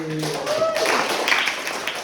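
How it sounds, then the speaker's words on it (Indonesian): Classmates in a microteaching classroom break into brief clapping for a student, a short wash of hands over and after a voice, and voices linger underneath. "Oke, tepuk Mas Fatih"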